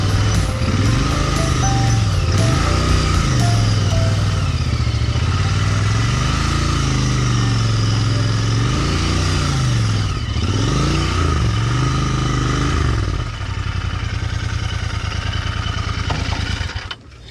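Motorcycle engines roar continuously and close by on a ride to Zanzari Falls in Gujarat, with repeated rev swells and throttle rises and dips as the bikes ride past; no one speaks.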